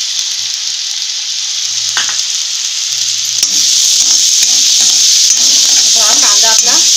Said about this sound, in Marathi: कढई चांगली तापलेलीच होती, त्याच्यामुळे भाजला गेलाय चांगला